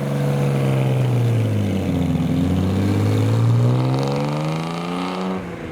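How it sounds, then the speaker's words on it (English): A Ford Zephyr and a Triumph TR6 drive out of a car show one after the other, their engines rumbling loud and close as they pass by, the pitch dipping and then rising again. "we have a few rollouts before all the Escorts come through, including this Ford Zephyr. And then the Triumph TR6 following."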